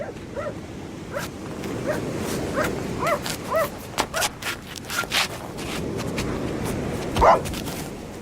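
In a radio drama, a dog barks in repeated short yaps and woofs, some close and some further off, over a dense outdoor background with a louder bark near the end.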